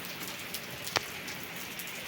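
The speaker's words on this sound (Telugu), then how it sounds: "ఇదండి వర్షం అలా వచ్చేస్తుందండి" Steady rain pattering on a surface, a soft continuous hiss with scattered drops, no voices.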